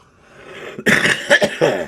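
A few harsh coughs close to the microphone, a sharp burst followed by two shorter hacks, with no talking.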